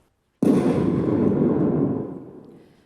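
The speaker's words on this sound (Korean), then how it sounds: "방금 지진에 이어 폭발음과 함께 네원정사 2층 건물에서 화재가 발생하여" A sudden loud explosion goes off in an earthquake and fire drill at a temple, a sharp blast that rumbles on for about a second and a half before fading out, with no voices.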